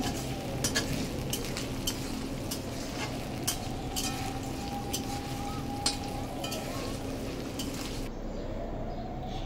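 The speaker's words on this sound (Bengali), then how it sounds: "এবার এটাকে একটু ভালোভাবে কষিয়ে নিব, এর কাঁচা গন্ধটা চলে যাওয়া পর্যন্ত।" Onion paste being sautéed in a pan, a soft continuous sizzle with scattered light utensil clicks over a low steady hum, with no voices.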